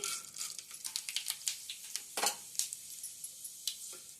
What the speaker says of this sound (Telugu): ఆయిల్ హీట్ అయిన తర్వాత ఇప్పుడు ఇందులోకి పోపు దినుసులను యాడ్ చేసుకోవాలి.